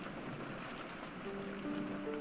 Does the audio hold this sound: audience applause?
no